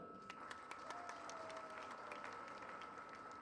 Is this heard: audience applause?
yes